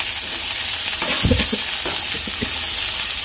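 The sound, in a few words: onions and capsicum stir-frying in pan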